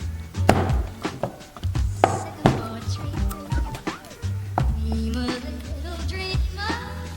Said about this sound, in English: Start off with cutting the soap into small chunks for 1 soap bar.